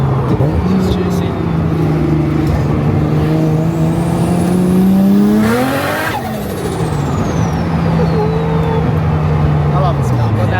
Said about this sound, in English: I love this car.